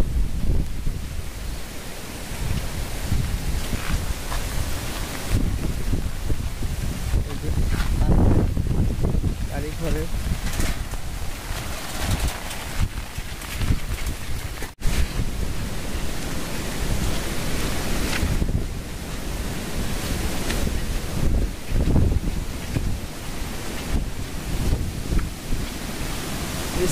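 Strong winds from Cyclone Remal roar and buffet the microphone in heavy gusts throughout, in a village, with a few spoken words briefly heard under the rushing noise.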